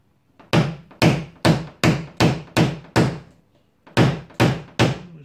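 A tool taps down a hail dent on the hood of a ZAZ Chance during paintless dent repair, giving sharp close metallic knocks in a steady run of seven, a short pause, then three more.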